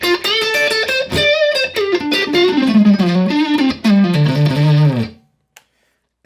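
An Ernie Ball Music Man Axis Sport guitar on its neck pickup through a Line 6 Helix, playing a fast, distorted lead phrase that bends and descends to a held low note, loud and close, then cutting off to near silence.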